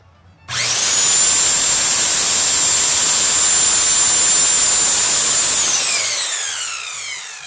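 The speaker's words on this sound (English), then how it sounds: "Ah ha ha, power tools." A power tool cuts through a marked workpiece with a loud, close, high whine that starts abruptly, holds steady for about five seconds, then winds down.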